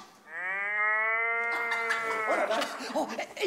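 A long, drawn-out voiced moo imitation, loud and steady, breaking into laughter and chatter near the end.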